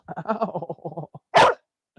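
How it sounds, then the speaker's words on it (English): A dog barks once, loud and sharp, after a stretch of voiced chatter that sounds like a person speaking, then goes quiet apart from a faint brief sound at the end. "Stop barking."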